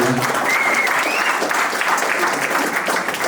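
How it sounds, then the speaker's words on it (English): Broad, steady applause from an audience fills the whole moment, dense clapping with a few cheers mixed in, no pauses. "Everyone make some noise, man. Put your hands together for Tizzy,"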